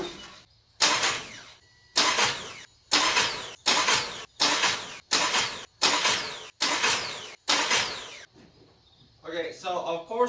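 A Nissan Sentra Spec V starter grabs the flywheel in a row of about eight loud, evenly spaced cranking bursts, each roughly half a second long and separated by silence, followed by someone talking.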